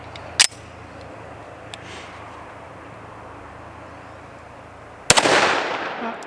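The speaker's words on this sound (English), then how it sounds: "We're gonna see if we can hit 2 bowling pins with 3 rounds" Two sharp, loud pistol shots from a Kimber Longslide 10mm fired at bowling pins outdoors, one near the start and one near the end, with a quiet stretch between and a short echo trailing the second.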